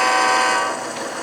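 A model train rumbles steadily along a layout track with a bright, continuous mechanical whir, fairly close, easing slightly in loudness toward the end, no voices.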